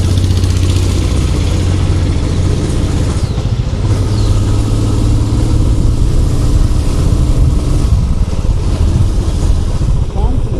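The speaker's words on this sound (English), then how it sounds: "Bullet's engine is working very hard" Royal Enfield Bullet motorcycle engine labouring uphill on a Kerala road, a steady low thumping drone filling the whole stretch, loud and close with wind noise, while a voice talks over it.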